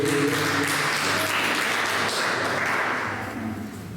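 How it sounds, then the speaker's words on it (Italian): Applause from an audience at a poetry reading, moderate and steady clapping that fades slightly toward the end, with faint voices underneath. "Un applauso."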